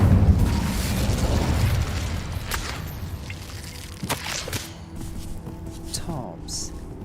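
An Incendio fire spell blasts in a Harry Potter video game, a loud rushing burst followed by crackling pops and sharp magical hits, with a voice speaking over it.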